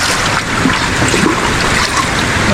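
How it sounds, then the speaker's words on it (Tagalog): Small sea waves wash steadily during monsoon flooding, a loud, constant broadband rush of churning water with no distinct breaks and no voices. "Ang liit ng alon doon."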